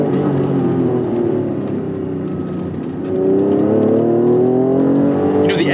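A 1992 Acura NSX engine with a cable-actuated throttle revs steadily and loudly, its tone dipping briefly near the middle and then climbing again, heard close up with no talking.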